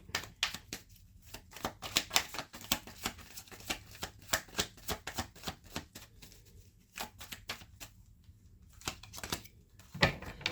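Tarot cards shuffled by hand in quick riffling bursts, close and fairly soft, with brief pauses between bursts and no talking.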